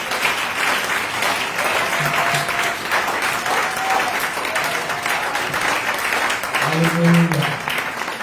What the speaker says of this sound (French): Est-ce que vous pouvez acclamer mon frère?